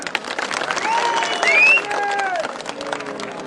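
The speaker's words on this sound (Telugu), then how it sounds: "ముందు ముందు చప్పట్లు కొట్టండి" Crowd applause at an outdoor municipal election campaign rally, a steady burst of clapping that swells mid-clip, mixed with whistle-like tones and a loudspeaker voice over the crowd.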